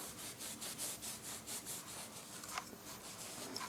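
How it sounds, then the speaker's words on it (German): A cloth soaked in cleaning fluid wiped across a surface during a DIY fitting on a BMW M2/M3 key holder insert, giving faint, close rhythmic rubbing strokes that repeat several times, with no talking. "Das Tuch tränke ich jetzt hier mit so einer Reinigungsflüssigkeit. Dann gehe ich hier einfach einmal über die Oberfläche drüber"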